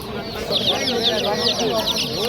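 Dekan rooster at a busy outdoor poultry market in Namangan, with repeated high clucking calls over a steady crowd murmur and nearby voices talking.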